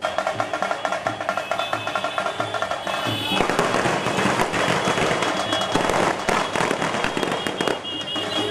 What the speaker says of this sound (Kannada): ಕಾರ್ಯಕರ್ತರು ಪಟಾಕಿ ಸಿಡಿಸಿ ಅದ್ದೂರಿಯಾಗಿ ಸ್ವಾಗತಿಸಿ